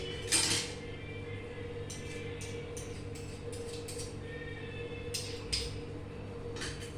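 Garlic paste made from four cloves is stirred in a pan, giving a few soft scraping and clinking touches of utensil against metal over a steady low kitchen hum.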